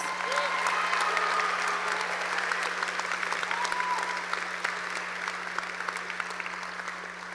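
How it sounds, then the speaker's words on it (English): Sustained applause from a graduation ceremony audience at a high school, a dense, steady wash of many hands clapping at moderate distance for several seconds, with a low steady hum underneath. "Can we give Mr. Peterson another round of applause?"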